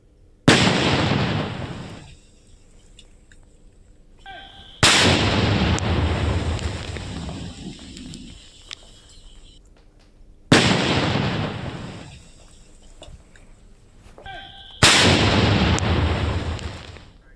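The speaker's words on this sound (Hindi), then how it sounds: "ये एक्सक्लूसिव बम धमाके की आवाज" Four loud, sharp blasts from a bomb explosion during violence in Murshidabad, West Bengal, each a sudden broadband boom that decays over a second or two, spaced several seconds apart, with quiet rumbling background between them and no talking.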